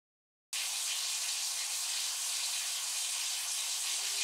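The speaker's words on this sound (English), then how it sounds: "The first one is a running water because a ghost is showering in there seamlessly." Water runs steadily from a shower in a Unity game level where a ghost is showering, a constant hiss that starts abruptly after a brief silence and continues evenly.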